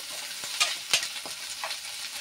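Onions frying in a pan for a mushroom fry, a soft close sizzle broken by a few quick stirring scrapes and clinks.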